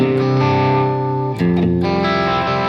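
A Stratocaster electric guitar played through a distorted, driven Marshall amp rings out in loud sustained chords, with a brief break partway before the next chord takes over.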